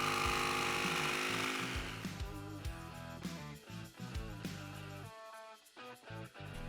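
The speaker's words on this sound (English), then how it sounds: "and we're gonna cut it out with the jigsaw." A jigsaw cuts out wood for a dado in a collapsible sawhorse build, its buzzing blade rising and falling in loudness with brief pauses near the end, close and alone without talk.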